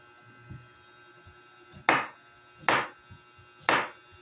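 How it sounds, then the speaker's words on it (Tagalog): Three crisp knife cuts land on a cutting board at an even, unhurried pace while cucumber is sliced very thinly for calamansi juice. Each cut is close and distinct, with near silence between strokes. "Hiwain natin ng manipis. Manipis na manipis."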